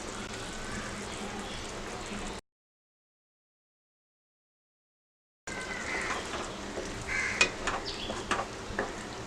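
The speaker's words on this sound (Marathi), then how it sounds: "फुल गॅसवरती आपण चांगलं आता परतून घेणार आहोत। अंडी घालून घेऊया।" Eggs sautéing in masala on full heat give a steady sizzle with scattered stirring scrapes and taps, cut by a brief stretch of total silence midway.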